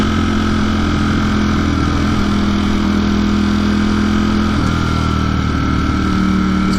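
2020 Ducati Streetfighter V4 super naked motorcycle, its engine running with a steady, loud, low rumbling tone that shifts slightly in pitch partway through.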